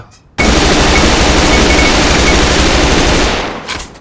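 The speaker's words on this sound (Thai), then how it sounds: "นั่งยิงดิ นั่งยิงแบบยิงรัว" A K-2 rifle fires on full auto in the game A.V.A, a loud, dense burst that lasts about three seconds without a pause and then cuts off, followed by a faint trailing tail.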